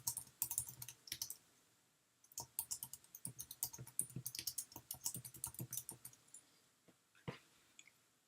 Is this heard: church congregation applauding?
no